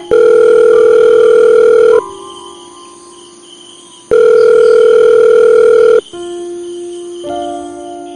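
A cartoon phone call plays a loud, steady ringback tone in two long pulses separated by quieter pauses, followed by a softer, layered electronic tone with no talking.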